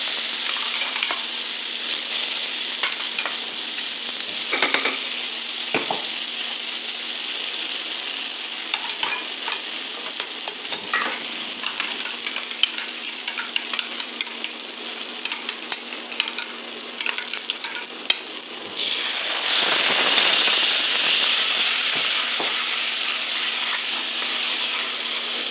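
Coriander chutney sizzles steadily in a hot pan with black mustard seeds and a dried red chilli, with scattered crackles and stirring scrapes, and a louder, fuller burst of frying near the end.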